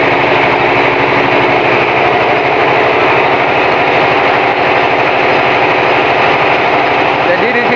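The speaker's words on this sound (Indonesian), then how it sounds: "Suara mesinnya tuh sangat kenceng" A meat grinding machine churns meat for sempol and pentol in a busy setting, a loud, continuous motor drone with a steady mechanical whir that never lets up, with voices under it.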